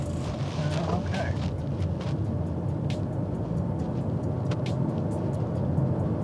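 Steady road and tyre rumble fills the cabin of a 2026 Toyota Prius driving in hybrid mode, a constant low drone at moderate level with a few faint ticks on top.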